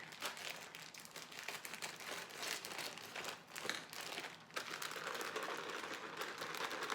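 Plastic packaging of a slaw mix crinkles and crackles up close, a busy stream of rustling and crunching handling noises with no talking.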